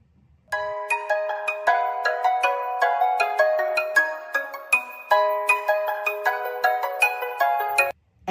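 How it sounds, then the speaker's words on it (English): A phone ringtone plays as a bright, chiming synthesized melody of quick repeated notes, loud and close, running steadily for about seven seconds with no talking. "This ringtone has a special place in my heart."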